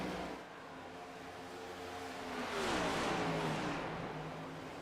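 Race car engine in a racing sim on the back straightaway at Texas Motor Speedway, a steady engine drone that swells as a car passes close, then eases off slightly, with no one talking.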